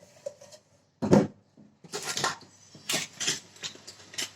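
A man washes dishes and scrubs a pot lid at a home sink, making short rhythmic bursts of scrubbing and a sharp clatter between brief pauses, close and fairly loud, with no speech.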